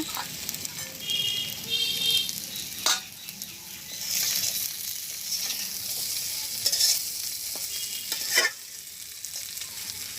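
Pointed gourd (potol) frying with onion in a pan, a steady close sizzle with stirring scrapes and a few sharper clatters, no talking.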